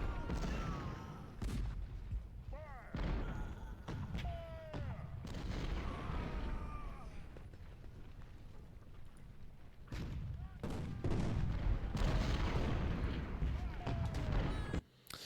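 Cannon fire from a Civil War 6-pounder or 12-pound howitzer in a strategy game at a river crossing, with repeated booms and crackling volleys in irregular bursts over a steady battle din, mixed with a talking voice.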